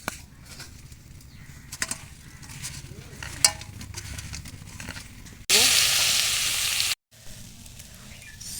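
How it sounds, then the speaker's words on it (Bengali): Soaked soya chunks coated in salt and turmeric fry in hot oil, sizzling softly under scraping stirs, then a sudden loud hiss flares for a second or two before dropping back. "সয়াবিন ভাজা হয়ে গেছে"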